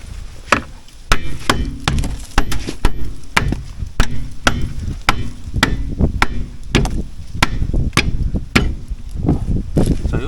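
Repeated sharp hammer blows on metal while working on a Fiat 126p, irregular and loud, ringing out over a steady low rumble with occasional voices in the background.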